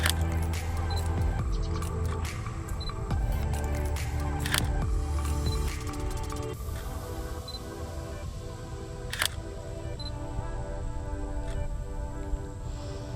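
Sharp camera shutter clicks from a portrait photo shoot, a few crisp single snaps spread over a steady background hum, with no talking.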